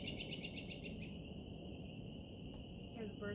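Birds chirp outdoors during a tai chi session, their high repeated calls fairly faint and steady in the background under a soft voice, with a few quicker chirps near the end.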